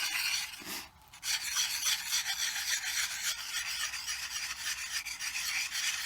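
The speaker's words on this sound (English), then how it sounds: "Put the flat side of the stone, lay it flat on the edge, little circles, keeping it flat on the bevel." A sharpening stone rasps steadily in small circles against an axe's bevelled edge in continuous close scraping strokes, with a brief pause near the start.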